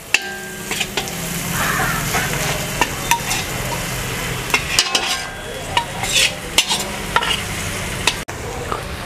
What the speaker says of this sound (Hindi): प्याज का कलर चेंज होने तक इसको अच्छे से भूनना है